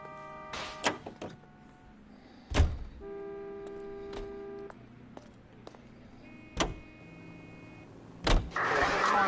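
A car in the video game L.A. Noire: door thunks and a starting engine, with several loud slams spaced apart, tonal hums and whirs between them, and a rising engine noise at the end, no voices.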